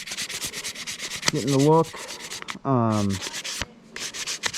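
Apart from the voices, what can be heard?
hand sanding a wooden diamond painting pen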